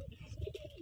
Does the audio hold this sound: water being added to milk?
no